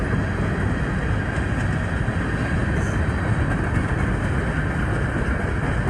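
A BNSF manifest freight train rolling past, a dense continuous broadband rumble and rush that stays loud and steady throughout, with no horn audible.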